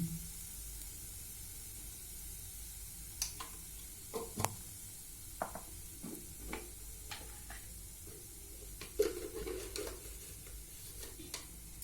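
Flattened rice (poha) frying in a pan with turmeric, salt and sugar, heard as a faint steady sizzle broken by frequent light scraping and tapping of a spatula.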